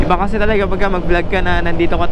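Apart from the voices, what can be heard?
No everyday noises stand out.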